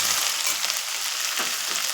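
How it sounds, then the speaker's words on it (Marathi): Fenugreek greens sizzle steadily in a hot pan, a continuous frying hiss with occasional stirring, no voices. "मेथीची भाजी टाकली मी परतवायला"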